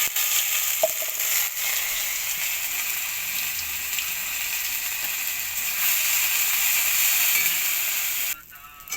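Green pea paste sizzles and fries steadily in a hot oiled pan, a loud continuous hiss with occasional stirring scrapes, close by and without talk.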